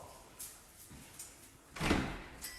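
A house's front door opening, heard indoors as a faint scrape and then a louder clunk near the end, with soft low background noise.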